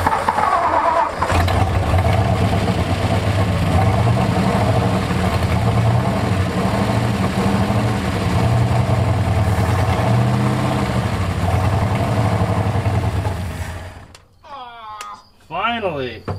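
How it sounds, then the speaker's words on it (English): An old, long-neglected Ford dump truck engine cranks, catches and runs steadily and loudly for about fourteen seconds before cutting out, followed by people talking excitedly. "Hey, it ran! That was one of the hardest trucks we've had to finally fire off and run for more than like a split second."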